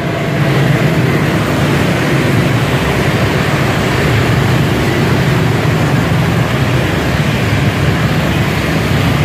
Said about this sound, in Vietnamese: Trên đường thì xe cộ ồn ào, náo nhiệt.